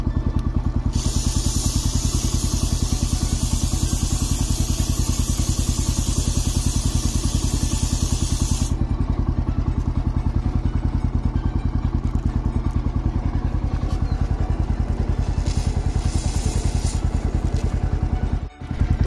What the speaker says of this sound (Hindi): सबसे पहले बाइक को कर लेते हैं स्टार्ट, और स्टार्ट करके पीछे से चैन को लुब्रिकेट कर लेते हैं।